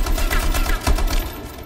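Rapid automatic gunfire from the video game Anthem rattles in a fast, loud, continuous burst of closely spaced shots.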